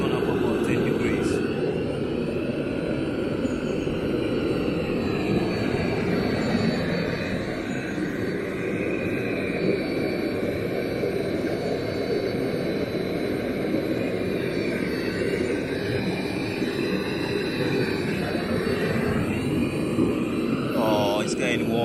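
A Webasto diesel fuel-burner heater fitted to a car runs with a steady, loud, whooshing roar that stays constant throughout, close by and unbroken.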